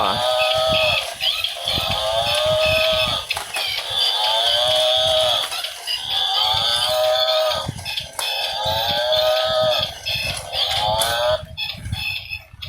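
A battery-operated toy cow gives out loud, repeated electronic moos in a steady rhythm over a constant mechanical buzz, close and with no talking.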